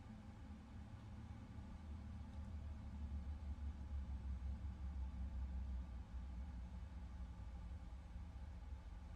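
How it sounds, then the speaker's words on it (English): Engines of a PMDG 777-300ER shutting down in Microsoft Flight Simulator, a low continuous rumble and whine heard from inside, steady and fairly quiet throughout. "let's turn off the engines"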